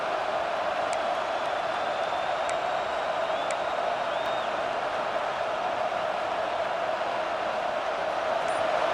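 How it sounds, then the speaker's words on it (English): A stadium crowd in an American football video game roars as a steady, dense wall of cheering, constant and moderately loud throughout with no pauses. "Listen to the crowd energy here in the early going."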